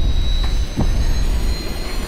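A fixed-wing airplane's jet-like engine roars steadily while flying in the video game Just Cause 2, a loud continuous broadband drone with a faint high whine and no speech.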